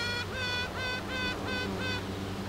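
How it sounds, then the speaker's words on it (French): A newly emerged queen bee pipes inside the hive, giving five repeated rising-then-steady tooting notes in a steady rhythm, close and clear over a low hive hum. "Les bruits qu'elle fait, c'est pour dire aux autres reines qu'il y en a une qui est émergée."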